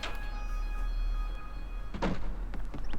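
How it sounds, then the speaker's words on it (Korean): A door opens with a single dull thunk and brief rattle in Super Mario Maker 2, heard over steady game music with a sustained tone before it. "여기 문을 열고 들어가면 될 것 같은데"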